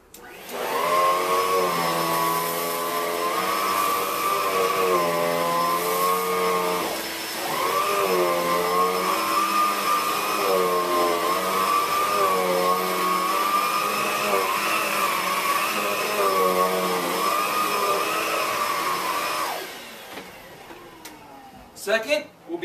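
An Electrolux vacuum cleaner runs loud and close with a steady whining motor drone, its pitch wavering in slow cycles, dipping briefly once before the machine winds down near the end.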